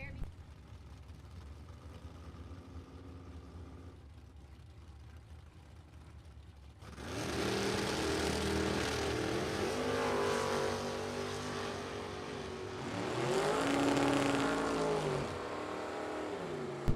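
At a drag strip, a Chevrolet Nova and a 1972 Chevrolet Corvette launch side by side. Quiet idling gives way to a sudden loud roar of both engines, which swells again as they run down the track, with an announcer talking over them.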